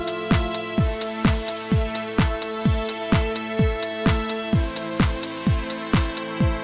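A synthesizer pad sound is retriggered in a quick, even repeat, about sixteen sharp tonal hits that each ring briefly, played alone without voices.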